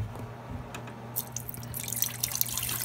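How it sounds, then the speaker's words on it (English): Apple mash for moonshine pours into a kettle as a soft, splashy trickle with drips, building slightly toward the end, close and fairly quiet with no talking. "I'm going to pour it into my kettle."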